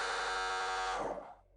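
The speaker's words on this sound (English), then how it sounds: "A siren chimed, not an alarm, but the call to embark." A ship siren chimes as a call to embark, one sustained, bright, buzzy harmonic tone held loudly before it cuts off and fades.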